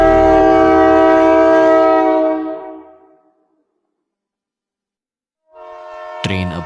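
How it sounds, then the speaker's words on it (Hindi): A train running at speed gives a loud, sustained tonal drone with steady rumble that fades out to silence, then swells back in with a sharp metallic clank near the end; no talk over it. "अंदर ट्रेन के पहियों का कभी ना रुकने वाला शोर"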